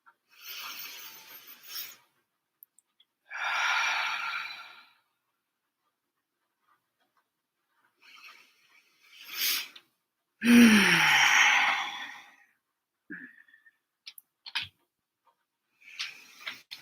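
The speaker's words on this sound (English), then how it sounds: "can we take 3 deep breaths?" Slow, deep breaths taken indoors, about four long airy inhales and exhales spaced apart with quiet gaps between them, close to the microphone with no talking.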